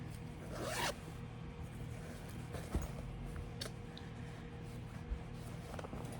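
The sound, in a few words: clothing zipper being opened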